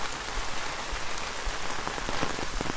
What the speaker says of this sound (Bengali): দেখেন বৃষ্টির কণা কিন্তু তেমন বড় না ছোটো ছোটো কণা